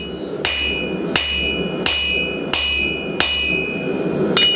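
Square punch hammered into round steel stock on a blacksmith's anvil, six sharp ringing metallic blows at a steady, unhurried pace, close and loud, with no voices.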